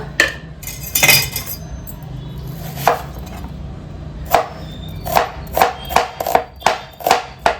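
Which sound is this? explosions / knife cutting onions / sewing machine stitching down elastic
knife cutting onions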